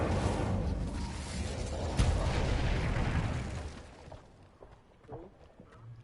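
In Hogwarts Legacy, an Incendio fire spell erupts as a loud, rumbling whoosh of flame with a sharp burst near the two-second mark, then dies away into quieter scattered game sounds.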